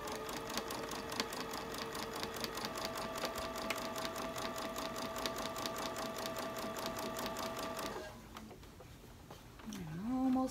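A sewing machine runs steadily and nearby, stitching a centerpiece tablemat in a fast, even mechanical rhythm for about eight seconds before it stops and a faint, brief handling noise follows.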